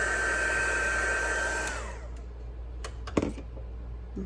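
A heat tool warms the back of a foil-embossed card, blowing a steady, loud hiss that cuts off after about two seconds. A few soft taps and clicks follow in near silence.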